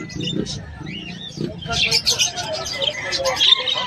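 Dominant pied crested parakeets at a pet market, giving soft scattered chirps and brief tweets, with people talking nearby throughout.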